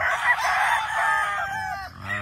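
A brass back gamefowl rooster crows loudly and close by on a farm, one long strained call that tails off, followed by softer clucking.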